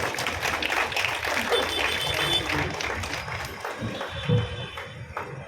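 An audience at an outdoor political rally claps together in a dense, fairly close burst of applause that stays steady and then slowly thins out, with some voices mixed into the clapping.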